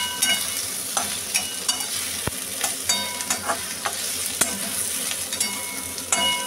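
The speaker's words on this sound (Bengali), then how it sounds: "এবার আমি পেঁয়াজটা ভেজে নিচ্ছি।" Onions frying in a pan while being stirred, a constant bright sizzle close up with repeated scraping strokes and occasional sharp taps of the spatula against the pan, no voices.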